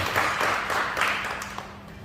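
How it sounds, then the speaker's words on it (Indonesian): Congregation applauding during a Sunday church service at JKI Jireh, a broad wash of clapping from many hands that fills the room and slowly eases off over about two seconds. "Beri tepuk tangan dulu yang meriah buat Tuhan kita."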